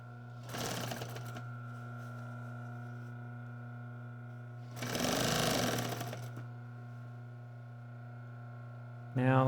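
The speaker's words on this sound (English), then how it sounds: "running that right over with the sewing machine" Two bursts from a sewing machine stitching over cording along the bottom of a slipcover's inside chair wing, running steadily for about one to two seconds each under a constant hum, with a brief voice at the end.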